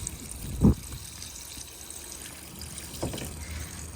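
Water drains from the fresh and waste water pipes of a 2021 Elddis Platinum CV20 campervan, a low, steady trickle and rush with a brief gurgling splash near the start and another softer one later.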